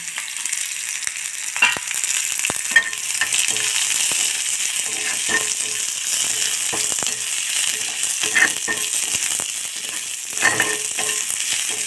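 Green chili and onion fry in a pan with a steady bright sizzle, punctuated by occasional clinks and stirring scrapes, with no voices.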